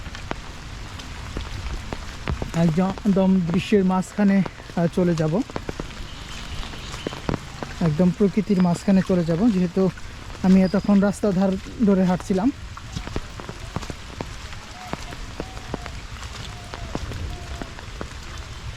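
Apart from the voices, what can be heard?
rain falling in a village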